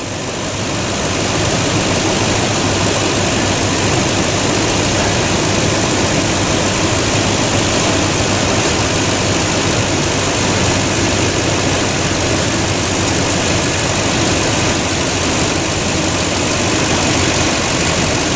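A Toyota Tundra pickup truck idling in park, its engine a steady, loud, close drone that holds unchanged for the whole stretch with no talking.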